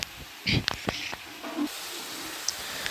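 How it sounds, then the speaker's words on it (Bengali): Potatoes and cauliflower fry in a pan with a hissing sizzle that swells into a steady broad hiss, a few clinks of utensils and a voice speaking briefly early on. "আর এখানে আলু আর ফুলকপিকে মানে একটু কষাচ্ছি ভালো করে সাতলে নেব"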